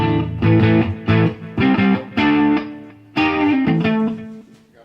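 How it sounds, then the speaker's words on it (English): A Gretsch Electromatic Pro Jet electric guitar with a basswood body plays through distortion effects, sounding loud, close and alone as sustained chords and riffs in several bursts with short breaks between. "Got a variety of different distortion devices that I like to put on this thing."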